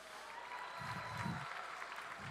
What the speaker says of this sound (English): so clap it up for yourselves.